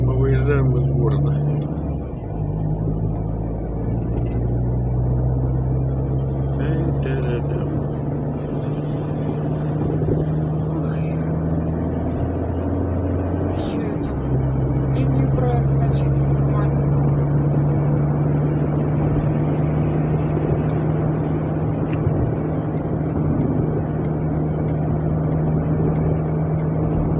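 A car drives along the P58 road out of Minsk, its engine and tyre noise a steady, even drone heard from inside the cabin, with people talking over it at times.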